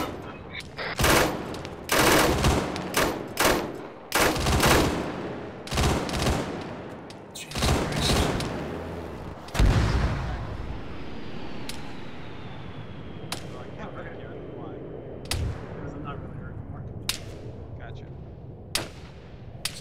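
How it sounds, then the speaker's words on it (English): Gunfire in Arma 3 cracks out in a dense, irregular series of sharp shots, some close and loud, others distant, with voices talking over and between the bursts. "Somebody shooting at me, guys."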